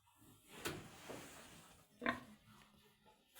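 Young pigs on a small farm grunting in short, faint bursts near the microphone, with quiet rustling and shuffling in between.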